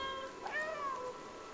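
A cat meows in the video game Stray, a single drawn-out, wavering meow near and clear over a faint background hum, without talk.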